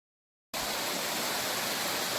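Water rushes at St. Mary's Falls, a broad steady hiss that starts abruptly after a moment of silence and stays dense and constant, with no voices.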